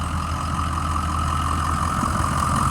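A 2006 Ford E-450 Blue Bird Handy Bus school bus engine idles steadily, a constant low rumble with an even mid hum, close and unbroken throughout.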